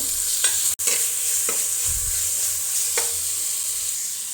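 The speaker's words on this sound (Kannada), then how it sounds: "ಸ್ವಲ್ಪ ಕರಿಬೇವು ಹಾಗೆ ಕಟ್ ಮಾಡಿಟ್ಟಂಥ ಈರುಳ್ಳಿ ಶುಂಠಿ ಮತ್ತು ಎರಡು ಹಸಿಮೆಣಸಿನ್ಕಾಯಿ ಹಾಕ್ತಾಯಿದ್ದೇನೆ ಸ್ವಲ್ಪ ಹೊತ್ತು ಫ್ರೈ ಮಾಡ್ಕೊಳ್ಬೇಕು" Curry leaves, chopped onion, ginger and two green chillies fry in oil, giving a steady close sizzle with occasional light stirring taps and one brief dropout.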